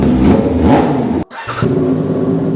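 A big bike motorcycle engine revs hard at a garage sale, a loud, close roar that cuts out abruptly for a split second and then surges back with a steady drone.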